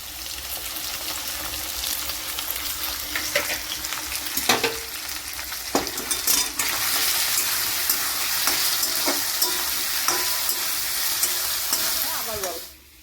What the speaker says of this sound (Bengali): যতক্ষণে কচুটা ওদিকে ভাজা হচ্ছে